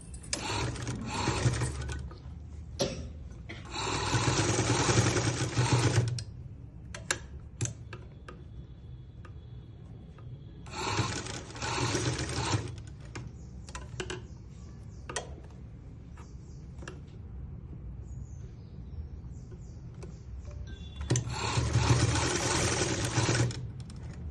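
A sewing machine runs in three long bursts, stitching a folded shirt hem, with soft clicks and handling noises in the gaps between runs.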